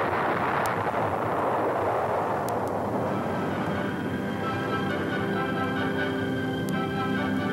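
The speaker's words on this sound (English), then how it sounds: "People from every station in life who now recognize the startling sonic boom as, indeed, the sound of freedom." Sonic boom from a B-58 Hustler jet during a Bendix Trophy race: a loud, sustained rumbling roar that fills the whole clip, with sharp cracks early on and a long rolling tail, no talk.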